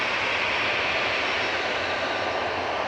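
Jet engines of a six-year-old Airbus A320 at Manchester Airport give a steady, broad, loud roar that holds evenly without break, heard alone with no talk.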